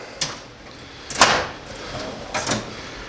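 A screwdriver drawer in a home DIY shop tool chest slides open and shut, a few short soft clunks and slides at close range in a quiet room.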